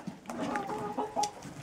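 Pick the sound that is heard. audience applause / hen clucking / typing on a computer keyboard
hen clucking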